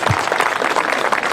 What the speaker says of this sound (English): give yourself a round of applause for getting up this morning and coming out